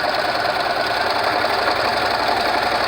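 A sewing machine top stitches a quarter-inch seam along a fabric face mask, with a steady, continuous mechanical whir and rapid needle chatter throughout, close and fairly loud.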